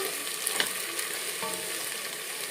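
Onions frying in a pan until golden, a dense continuous sizzle with a few soft stirring scrapes, close and steady, with no talking.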